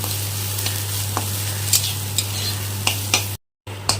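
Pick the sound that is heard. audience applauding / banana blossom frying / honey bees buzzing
banana blossom frying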